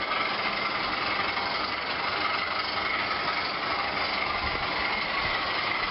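Class 20 model locomotive with DCC sound running at half speed, a steady, continuous diesel engine drone with a thin, bandlimited quality and no talk.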